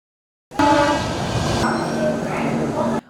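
Train at Ongole railway station, a loud steady rumble and hum of rail cars that starts abruptly and holds for about two and a half seconds before cutting off.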